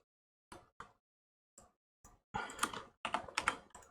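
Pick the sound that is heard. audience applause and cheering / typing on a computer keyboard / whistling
typing on a computer keyboard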